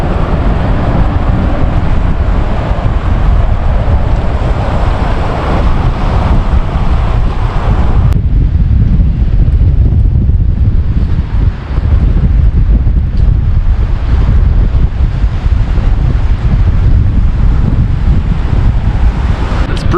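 Strong wind roars across a bouncing bridge over a current at Lac Qui Parle state park, with a loud, constant buffeting rush that batters the microphone for the whole stretch.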